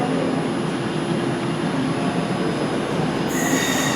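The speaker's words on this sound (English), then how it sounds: "Just coming out of the darkness is my train." A Northern or similar regional train emerges from a tunnel into a Leeds station, wheels squealing loudly and steadily against the rails with a dense rumble, close by and with no voices.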